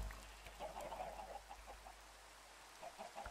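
Chickens clucking in the Minecraft video game: a run of short, moderately loud clucks comes in bursts and pauses over a low steady hum, with no talking.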